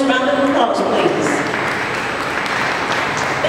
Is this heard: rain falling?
no